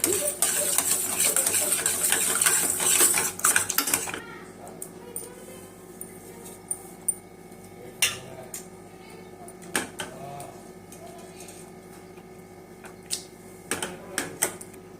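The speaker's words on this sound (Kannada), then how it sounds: "ಒಂದು ಸ್ಪೂನು ಮೆಣಸು ಅರ್ಧಂಬರ್ಧ ಕುಟ್ಟಿಟ್ಕೊಂಡಿದ್ದೀನಿ ಈಗ ಇದನ್ನ ಹಾಗೆ ಸ್ಮ್ಯಾಶ್ ಮಾಡಿಬಿಡೋಣ" Irregular hard knocks of a pestle crushing a spoonful of half-pounded black peppercorns, spaced a second or two apart, after a stretch of louder noisy activity at the start.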